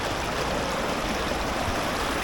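Water rushes steadily in a stream near a waterfall, a loud, dense, unbroken roar that holds without change from start to finish.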